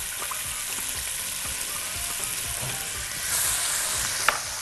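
Chopped onion sautéing in a frying pan while cooking chicken, a steady close sizzle and crackle that holds throughout and swells slightly near the end, with a faint stir or clink.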